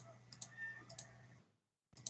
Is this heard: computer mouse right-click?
yes